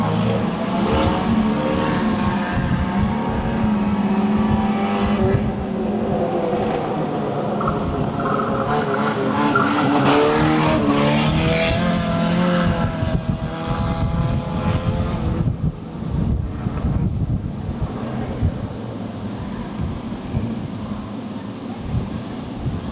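A field of race cars turning around on the track to head the other way, a continuous blended drone of engines at low speed mixed with wind buffeting, steady and moderately loud throughout.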